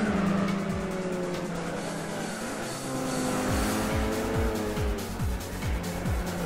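Race cars roar in Gran Turismo 4, a 500hp tournament with an Evo and an RS200 battling, engines whining and shifting continuously with repeated tire squeals, loud and steady with no talk.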